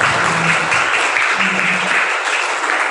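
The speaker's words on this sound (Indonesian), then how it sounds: "Tepuk tangan dulu buat kita." A crowd applauding, dense clapping sustained at a steady level for a few seconds, with no voices standing out.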